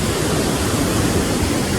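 Steady, dense rush of flowing water, loud and close, a continuous broadband wash with no breaks and no voices.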